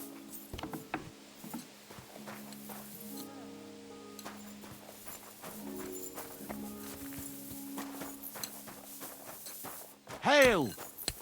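A horse plods along in the medieval game Kingdom Come: Deliverance II, with soft, irregular hoof clops under talking voices, creaking tack and a brief whinny or snort near the end.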